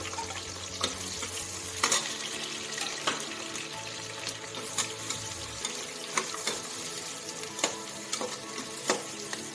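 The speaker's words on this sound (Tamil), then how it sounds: "எண்ணெய் சூடாயிட்டு நம்ம எடுத்து வச்சிருக்க 2 வெங்காயத்தை ஆட் பண்ணிக்கலாம்." Onions added to hot oil for a fresh cream chicken curry sizzle steadily in the pan, with a continuous frying hiss and several sharp clinks of a spoon against the vessel, close and moderately loud.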